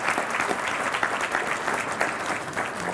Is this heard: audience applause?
yes